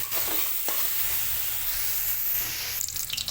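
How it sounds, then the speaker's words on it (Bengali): Potatoes and soya chunks frying together in a pan, a continuous close hiss and sizzle with a few stirring scrapes, no talk. "আপনারা চাইলে সয়াবিনের আলুটা আলাদা আলাদা আলাদা করে ভেজে নিতে পারেন আমি এখানে একসাথেই ভেজে নিচ্ছি"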